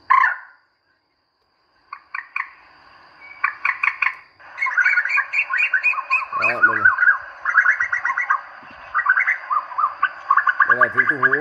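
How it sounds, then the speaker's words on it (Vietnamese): An Asian koel call plays from a cheap 5W aluminium bird-calling loudspeaker, a series of repeated bright whistled phrases in rapid bursts, loud and close, with short pauses between phrases and a few lower tones. "Đây là tiếng tu hú các bác nhé."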